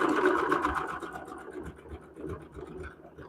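A sewing machine stitches a quilt block seam, whirring with a fast mechanical patter that fades gently over a few seconds, close by and fairly quiet.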